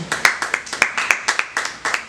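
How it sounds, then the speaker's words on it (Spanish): Sparse, rhythmic clapping from a small church congregation, each clap sharp and distinct, steady and fairly close. "Démosle un fuerte aplauso."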